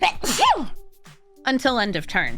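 A single sneeze bursts out during a spoken Magic: The Gathering card review, with talking just before and after it.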